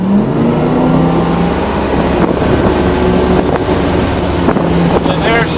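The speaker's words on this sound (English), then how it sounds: "Next run, from idle again, full acceleration." A MasterCraft ProStar 205V boat engine runs at full acceleration from idle, a loud steady roar and drone heavy with wind buffeting and water rush, with a faint rising tone near the end.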